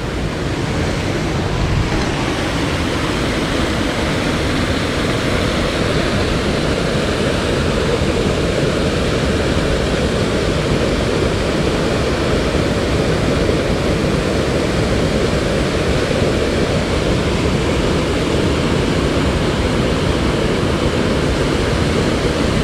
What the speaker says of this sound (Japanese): 天然の木の滝